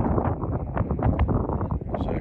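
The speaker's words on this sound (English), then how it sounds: "It is very windy and chilly" Strong, chilly wind at a lake near Willcox, Arizona buffets the microphone in heavy low rumbling gusts, with a voice talking underneath.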